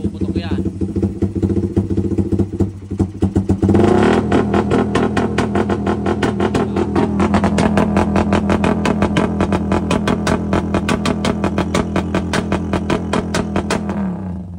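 A car engine held at about 5,000 RPM on launch control, idling and revving before breaking into a loud, continuous rapid-fire string of backfire pops and crackles that runs steadily to the end.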